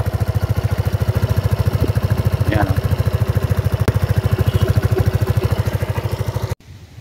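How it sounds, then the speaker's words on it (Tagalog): A Rusi Flex 125i scooter engine idles nearby with a steady, even low throb that runs unbroken for several seconds before cutting off abruptly. "Tapos ayan yung tunog ng kanyang makina."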